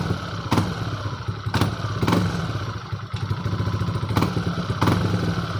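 Yamaha Aerox 155 scooter fitted with a WF Pipe V2 exhaust, close up, with a rumbling idle broken by several sharp throttle blips that rise and fall in quick bursts.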